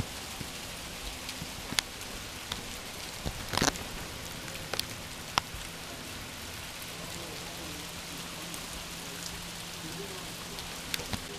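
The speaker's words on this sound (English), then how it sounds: "Now we're getting sleet." Sleet falls outdoors on a winter day as a steady, even hiss of small pellets, with occasional sharper ticks of pellets striking a nearby surface.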